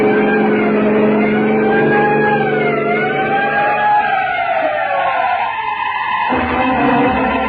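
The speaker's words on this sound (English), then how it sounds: "Sound your siren." A vehicle siren wails up and down close by over engine noise, then cuts off abruptly near the end, leaving the vehicle's running engine.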